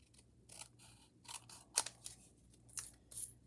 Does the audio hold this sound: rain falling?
no